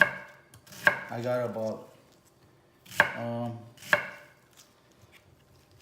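A knife chops a medium onion and two small ones on a cutting board for pickled habanero peppers, in close, rapid bursts of crisp chops separated by short pauses, with brief talk.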